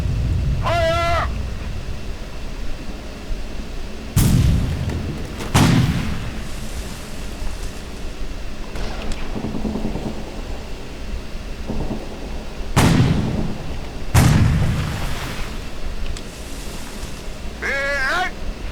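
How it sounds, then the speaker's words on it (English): Rocket launcher artillery fire in the World War II strategy game Sudden Strike 3: several sharp booming blasts in clusters over a low rumbling battlefield backdrop, with brief whistling or squealing tones between them. "Guck mal, ein Raketenwerfer."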